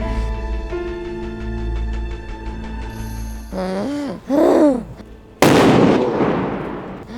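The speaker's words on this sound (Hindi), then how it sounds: "और फोड़ो, और पटाखे फोड़ो।" Firecrackers burst loudly during Diwali, a sharp crackling blast near the end after tonal whistling and rising squeals, like fireworks going off close by.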